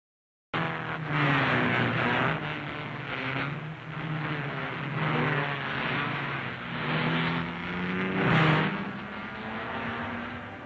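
Vintage Yamaha motorcycles racing in the 1958 Catalina Grand Prix, their engines droning and revving steadily with rising and falling pitch as bikes pass nearby, over a constant hiss.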